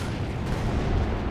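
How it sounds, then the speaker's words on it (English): Sexton self-propelled artillery firing in the World War II strategy game Company of Heroes 2, a fairly quiet, continuous low rumble of distant guns and explosions that holds level for just over a second with no voices. "Oh, look, the Sexton's firing."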